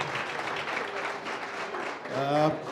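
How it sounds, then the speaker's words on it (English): Applause for a group at a business workshop in Katlehong, a brief stretch of moderate clapping that fades as a voice begins speaking near the end. "Can we give realistic strategist a round of applause?"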